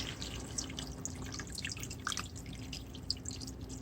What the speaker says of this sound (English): now we're going to add the water to it